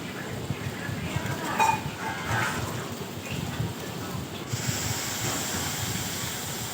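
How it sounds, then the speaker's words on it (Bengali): Salted fish fry in oil in a pan until browned red, giving a loud, steady, close hiss of sizzling that runs without a break throughout. "এখন ভালো করে লাল লাল করে ভেজে নিলাম"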